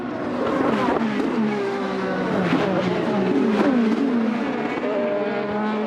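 An IndyCar race car on the Indianapolis road course holds a loud, steady engine note under power for the whole stretch, pitch rising and falling through gear changes with a continuous close roar.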